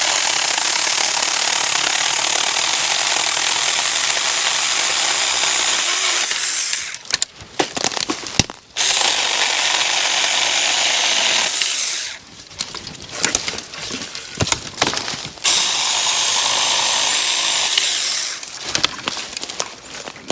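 A mini chainsaw cuts through a piece of dry oak outdoors, its steady loud buzz running for several seconds, breaking off briefly, then resuming in a few more bursts.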